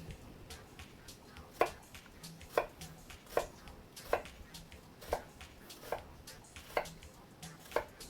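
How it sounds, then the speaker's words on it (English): A knife chops onions on a cutting board while someone cooks, giving about eight to ten sharp, fairly close strikes at an irregular pace over a low, steady room background. "All over the place cutting those onions."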